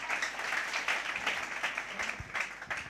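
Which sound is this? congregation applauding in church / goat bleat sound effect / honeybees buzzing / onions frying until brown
congregation applauding in church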